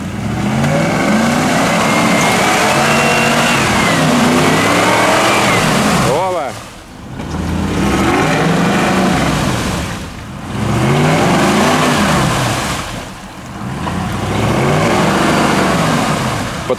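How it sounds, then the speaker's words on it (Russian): A 1950s GAZ truck fitted with a Toyota V8 engine revs hard off-road, loud and close, the engine note rising and falling in repeated surges with brief dips between pulls. "Мотор от Toyota, быстрый, мощный, делает жжух-жжух-жжух."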